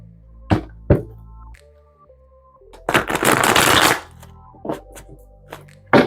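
Tarot cards shuffled by hand at a reading table: a few sharp card taps and snaps, then a dense, continuous riffling burst lasting about a second, followed by more scattered taps, close and clear with no talk.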